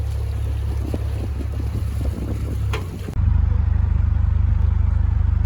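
A narrowboat manoeuvres across a canal basin in winter wind, its engine a steady low rumble under heavy gusting wind buffeting the microphone, the wind noise dropping away midway as the engine drone grows louder and closer.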